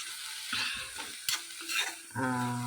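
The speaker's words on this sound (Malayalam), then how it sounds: "കടുക് പൊട്ടിച്ചിട്ട് മുളകും ചേർത്ത്" Hot oil crackles and spatters in a pan as mustard seeds splutter and chillies are added, with scraping clinks of a utensil and no talk.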